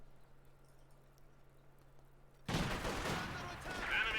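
An MG34 machine gun fires in the Company of Heroes strategy game, with quiet ambience giving way abruptly midway to a loud, sustained roar of gunfire that carries on to the end.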